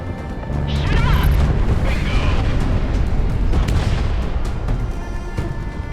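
Heavy explosions and missile impacts rumble loudly in the jet combat game Project Wingman, a dense continuous roar with crashing blasts layered over it and a voice speaking faintly underneath.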